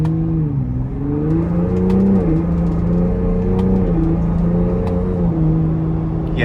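A 2025 Ford Bronco Raptor with a twin turbo engine pulls away from a stop in sport mode, a steady close engine drone rising and easing in pitch through the gears.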